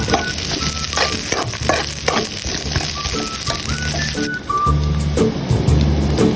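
Onion and ginger sautéing in a pan for mackerel sinigang, a loud, steady, close sizzle with scattered scraping stirs, and no talk.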